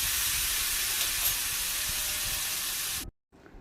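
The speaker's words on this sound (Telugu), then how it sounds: "ఇందాక మనం మిక్స్ చేసుకున్న మిశ్రమాన్ని దీంట్లోకి వేసుకోవాలి." A spice mixture with cumin, mustard seeds and curry leaves hits hot oil in a pan for chicken curry, giving a loud, steady, close sizzling hiss that cuts off abruptly near the end.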